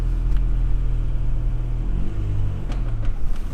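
A Honda Integra DC2's engine idles roughly and steadily after firing up, a loud, close, low rumble that lifts slightly partway through.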